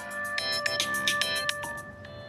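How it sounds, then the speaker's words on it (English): A mobile phone's ringtone from an incoming call plays as a rapid, bright melodic pattern of repeated electronic notes over a steady tonal hum, moderately loud for a couple of seconds. "Somebody's calling my phone."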